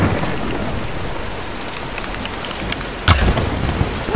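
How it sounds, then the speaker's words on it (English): Heavy rain pours continuously in the 2013 Tomb Raider video game, with a sharp thunder crack about three seconds in followed by rumbling, and no talk. "let's wait out the storm"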